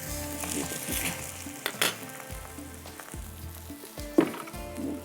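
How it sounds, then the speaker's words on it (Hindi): A paratha sizzles steadily as it fries in a hot pan, with occasional louder crackles and spatula scrapes over a continuous frying hiss. "बस इस पराठे को फ्राई कर लूँ"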